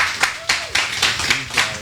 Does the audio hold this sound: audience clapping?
yes